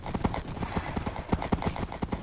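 Horse hooves clip-clop in the Minecraft video game during a horse race, a quick, steady run of hoof beats at close range with faint background noise.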